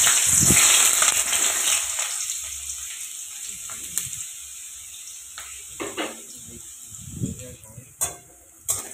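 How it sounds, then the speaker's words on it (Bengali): Potatoes hit hot oil in a wok with a loud burst of sizzling that settles into a steady hiss, broken by several clinks and scrapes of a spatula. "তো এখন আমি তেলের মধ্যে আলুটাকে দিয়ে দেবো, দিয়ে ভাজা করে নেব।"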